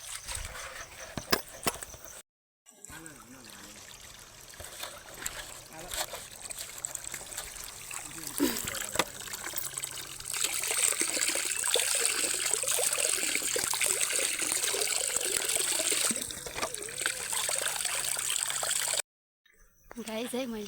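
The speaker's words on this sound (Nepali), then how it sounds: "मैले चाहिँ पानी थापेँ, मुख धोएँ, हामी पानी लिएर हिँड्दैछु है।" Spring water trickles and splashes steadily as bottles are filled outdoors at a village source, with voices and handling noises mixed in and the flow growing fuller midway.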